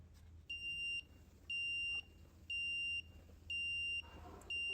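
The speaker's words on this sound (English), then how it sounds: "So we're 5 times repeating the buzzer on, sleep for half a second, off, sleep for another half a second" Buzzer driven by a Raspberry Pi sounds four shrill, steady tones, each about half a second long and separated by half-second silences, in an even on-off loop over a faint background hiss.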